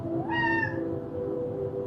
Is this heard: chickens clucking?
no